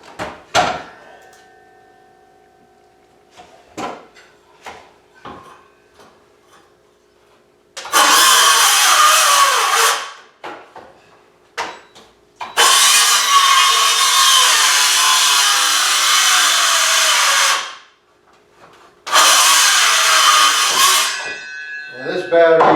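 Small battery-powered saw with a carbide blade cuts wood for a wall panel in three loud bursts of whining, rasping cutting, separated by quiet gaps with clunks and handling knocks.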